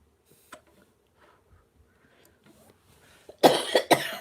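Someone coughs hard near the end, two or three loud, close, harsh bursts after a long stretch of near silence with faint small noises.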